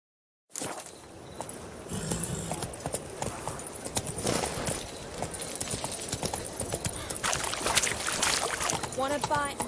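Geralt's horse Roach gallops in The Witcher 3, a steady run of hoofbeats clattering close and continuous, with spoken game dialogue and ambient sounds layered over it.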